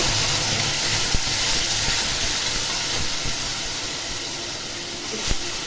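Tomato puree sizzling as it is added to a hot pan of sautéed capsicum for veg Manchurian, a loud steady hissing sizzle with a few small pops and clinks.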